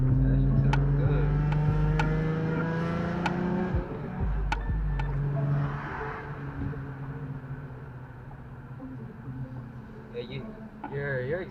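An Infiniti G35 with a manual gearbox revving past 3,000 RPM as the exhaust valve opens, giving a throaty drone with clicks and pops. Loud at first, then it eases off as people chat over it.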